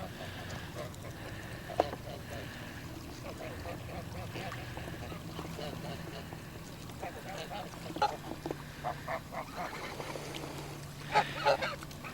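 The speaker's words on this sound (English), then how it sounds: "wandering about among the geese" Geese honk and call intermittently at close range, several nasal honks clustered near the end over a quiet outdoor background.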